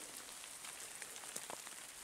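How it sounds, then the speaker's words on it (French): Small hailstones falling during a mountain hike in the Écrins massif, a faint steady patter of tiny ticking impacts with scattered sharper clicks, no voices. "Il ne pleut pas, il grêle. Ah, pour l'instant, c'est des tout petits grêlons."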